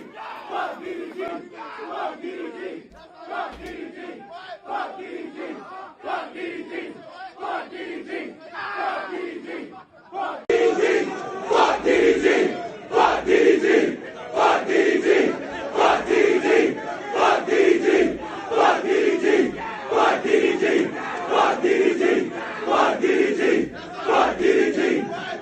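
A large crowd at a live show shouts and chants in loud, rhythmic bursts that keep going, growing noticeably louder and fuller about halfway through, with no separate talking.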